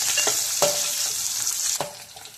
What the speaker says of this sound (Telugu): ఇవన్నీ బాగా వేపుకోవాలన్నమాట.